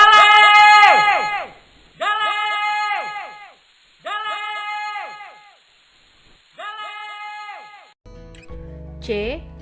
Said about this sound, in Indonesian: ketika kita berteriak di bukit dan di dalam